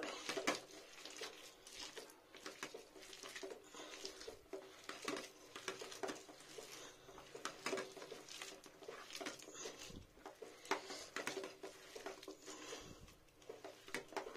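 Raw cauliflower being tossed and mixed by hand in a bowl with salt, turmeric, black pepper, chili powder, green chilies and soy sauce, giving a steady run of soft wet pats, squishes and light bowl knocks at close range, with no talking.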